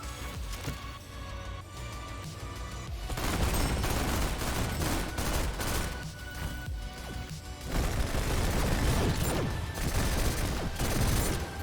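Rapid, loud automatic fire from a PDW gun in the shooter game GTTOD, sustained bursts with brief pauses, mixed with impact crashes and explosive booms.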